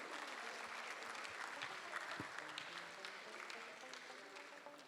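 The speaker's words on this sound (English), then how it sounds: "A big round of applause for them." An audience at an awards night ceremony claps steadily throughout, a dense wash of applause from a large room that is distant and fairly faint and tapers slightly at the end.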